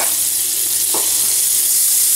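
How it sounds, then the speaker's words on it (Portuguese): A spoonful of butter melts in a hot pan with a loud, steady sizzle that fills the moment, and there is one soft knock partway through. "Vamos colocar aqui uma colher de manteiga"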